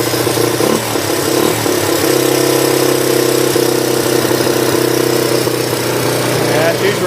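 A cold-started three-wheeler engine idling nearby with a steady, loud putter and slight knocking, while a voice talks over it.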